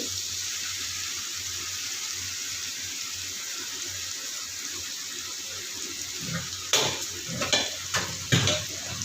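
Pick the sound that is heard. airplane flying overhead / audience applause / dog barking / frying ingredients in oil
frying ingredients in oil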